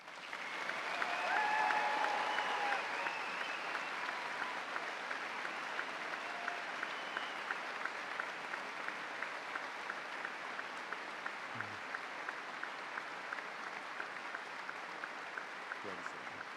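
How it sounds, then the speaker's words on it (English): A graduation audience applauds for military-bound students in a large hall, a broad steady wash of clapping that peaks early and then holds evenly at a moderate distance. "You may do the applause now."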